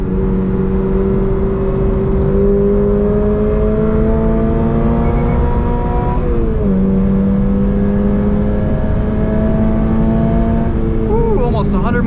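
A 2022 Toyota GR86 Premium pulls hard on a race track, its engine note rising steadily through the gears with a brief dip at a shift, loud and close from inside the cabin.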